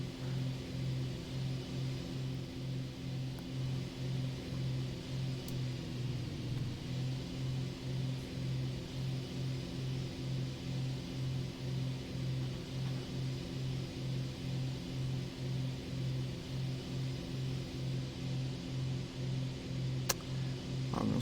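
An aircraft engine in War Thunder accelerates with a steady droning hum and a regular pulsing throb that holds constant, alone and without speech.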